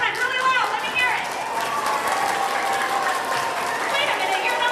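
An audience of schoolchildren at a school mid-year performance claps and cheers continuously, a dense wash of applause with excited shouts running through it and voices over the top.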